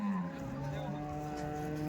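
A cow lows at a livestock market in Nalegaon, Latur, with a sustained, droning moo filling the moment and faint crowd murmur behind it.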